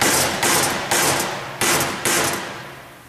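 A hammer beating on the heads of broken bolts after installing PlateGrip fasteners, four loud ringing metallic strikes at an uneven pace, close and alone.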